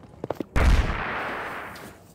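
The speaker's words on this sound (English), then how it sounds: "The good news, the explosion didn't damage your face." An explosion in the video game Nancy Drew: The Haunting of Castle Malloy: a few small clicks lead into a sudden loud, booming blast that rumbles and slowly fades over about two seconds, with no voices.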